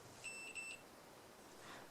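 A Hantek 2D42 handheld multimeter's continuity buzzer gives two short, thin electronic beeps in quick succession, faint against a soft background hiss.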